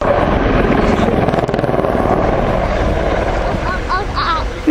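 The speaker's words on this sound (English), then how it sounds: "The Apache now climbing into the overhead, just confirming the destruction of the target." An Apache attack helicopter climbs overhead at the Royal International Air Tattoo at Fairford, its loud, steady rotor thump and turbine roar continuous and close, with a commentator's voice over the public address.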